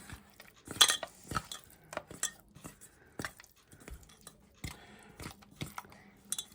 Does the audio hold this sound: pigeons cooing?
no